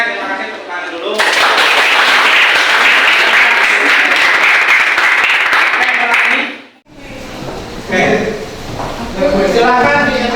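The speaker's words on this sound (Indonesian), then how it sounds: "terima kasih tepuk tangan dulu" A class of students breaks into loud, sustained applause for about six seconds, ending abruptly, followed by a teacher talking over classroom noise.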